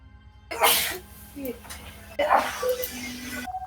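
Two sneezes, each a sharp burst with a short rasping tail, about two seconds apart, close and loud over a faint steady background hum.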